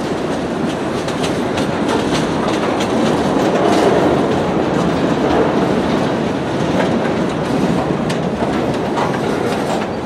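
Loud, continuous rumble of a heavy CSX freight train braking hard close by, led by three locomotives, with wheel clatter and a steady grinding roar throughout.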